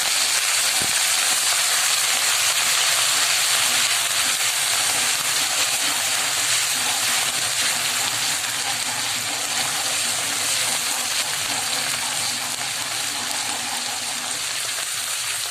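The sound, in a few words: sautéing garlic and ginger with onions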